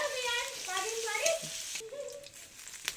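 Crushed garlic fries in mustard oil with a soft, hissing sizzle, partly covered early on by a voice, then a quieter sizzle with a single sharp tap at the end.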